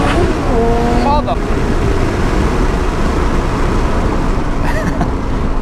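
A twin-turbo Lamborghini Gallardo, rated at 1106 wheel horsepower, accelerates hard. Its engine roars loudly and continuously over heavy wind and road noise, and the pitch climbs and drops through quick upshifts.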